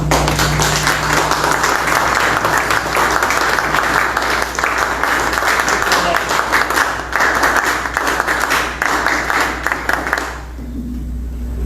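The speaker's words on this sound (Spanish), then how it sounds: "Un aplauso por Carlos Navas y por Blanca." Audience applause at a book presentation on ethics and corruption, loud, steady and sustained for about ten seconds before cutting off abruptly, with a low hum underneath.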